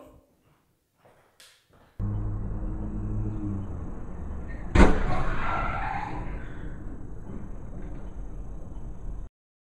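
Two cars collide in Russia: tires skid for a few seconds, then a sharp crash impact lands midway, followed by a noisy scraping rush that cuts off abruptly.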